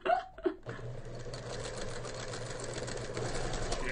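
A self-threading sewing machine hums and stitches steadily at close range after a couple of brief vocal sounds at the start, its motor whirring in an even run that grows a little louder toward the end.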